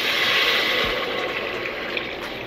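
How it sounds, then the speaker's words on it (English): Water is poured into a skillet for a creamy black bean and pasta dish, a steady, close, broadband rush that runs without break and stays fairly loud throughout. "I'm gonna go ahead and start to add my water."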